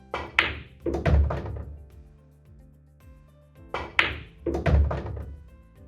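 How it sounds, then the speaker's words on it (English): On a pool table, a cue tip strikes the cue ball, which then knocks into an object ball in a stop shot. The sequence is played twice, with close, crisp clicks and soft thuds. "So we're just playing a stop shot here."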